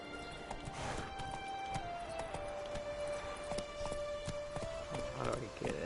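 Horse hooves clip-clop at a steady walking rhythm in The Witcher 3, close and moderately loud over a faint ambient tone.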